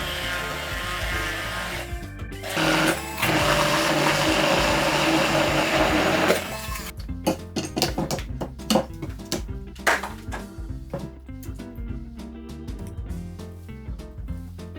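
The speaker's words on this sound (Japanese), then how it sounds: "あまりミキサーを回しすぎない方がいい" A food processor roars continuously for several seconds blending garland chrysanthemum into a pesto-style sauce, then cuts to choppy pulses and clatter as the blade starts and stops.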